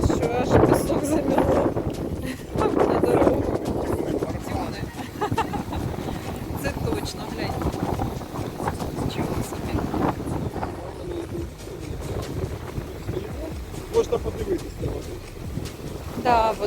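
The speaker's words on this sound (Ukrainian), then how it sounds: "Гляньте, який сильний вітер." Strong wind on a small sandy beach by the Dnipro River buffets the microphone in rough gusts while a person talks over the roaring, blustery noise.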